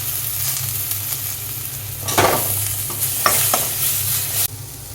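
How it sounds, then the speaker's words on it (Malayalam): Onions and tomatoes sautéing in a pan for chana masala give a steady low sizzle, with a few louder scraping stirs of a spoon near the middle and end; no voices. "ഉള്ളിയും തക്കാളിയും നന്നായിട്ട് വഴറ്റി വരുമ്പോൾ"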